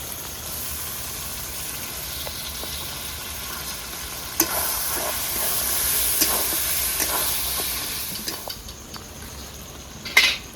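Ginger, garlic and dry chili paste sizzles steadily in a hot pan for a village-style mutton curry, with a continuous frying hiss, occasional stirring scrapes and a sharp clink near the end.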